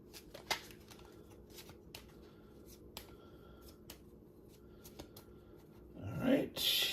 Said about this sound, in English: So, okay, I'm shuffling.